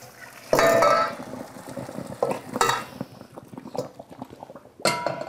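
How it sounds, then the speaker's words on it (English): Blanched green beans poured from a pot into a colander, a loud watery splash and rush at the start followed by clattering and dripping, with metallic knocks of cookware near the end. "We're going to take these beans and drain them"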